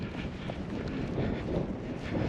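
Wind rising on a mountain hike in the Vercors near the Pas de Peyrole, a rough, buffeting rush across the microphone, steady and fairly loud for a couple of seconds.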